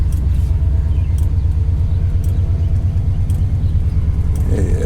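A 1996 Chevrolet Caprice Impala SS with aftermarket mufflers idles steadily, its engine and exhaust giving a continuous, loud, low rumble with a pulsing beat throughout.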